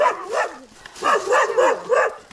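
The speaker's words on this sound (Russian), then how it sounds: "Что собака такая дурацкая? Сколько ходит, что лает, лает." A dog in a rural village yaps repeatedly in short rising bursts, fairly close and alone, with about four bark groups spread over a couple of seconds.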